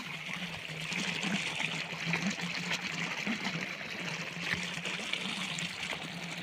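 Water flows steadily along a channel in a farm field, a continuous trickling, burbling wash heard close and fairly quiet, with faint voices in the background.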